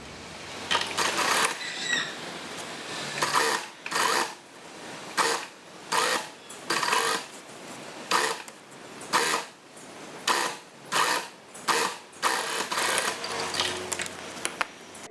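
Sewing machine stitching the skirt, bodice and lining of a child's half-circle gamis dress, running in a series of short bursts with brief pauses between them, close and fairly loud, no talking.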